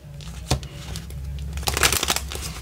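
Quick papery riffling bursts of a card deck being shuffled, with a sharp snap early on and a denser flurry toward the end, close up.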